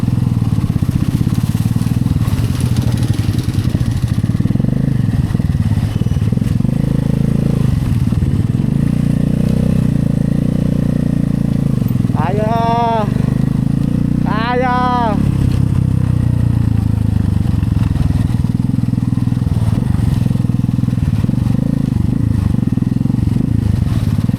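Motorcycle riding along a road on a motocamping trip toward a lake, steady loud engine drone with rumble and wind noise throughout, close up, with someone talking over it and two brief whistling chirps midway.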